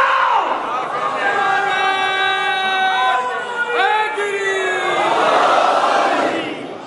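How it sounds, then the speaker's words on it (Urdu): Religious gathering crowd in a Muharram majlis, many voices rising together in loud sustained chanting of slogans and salawat, overlapping in waves with an exclamation in the middle. "مکس ہو گئے آپ کے نعرے بھی صلوات بھی"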